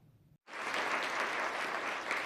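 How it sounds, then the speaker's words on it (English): Rounds of applause from legislators at the Vermont State House on the opening morning of the 2025 session, starting abruptly after a quiet moment and holding steady and full. "Rounds of applause raining out at the Vermont State House Wednesday morning"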